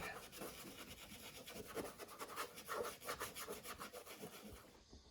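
Weathering paint is rubbed into an OO gauge model railway platform, producing a steady, close scrubbing and rasping in quick repeated strokes that fades out near the end.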